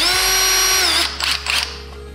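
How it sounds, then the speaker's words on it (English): Power drill boring pilot holes into the side of a custom range hood during a motor insert install: a loud, steady high-pitched whine for about a second, then two short bursts as the trigger is squeezed again. "We're gonna drill two pilot holes in the sides,"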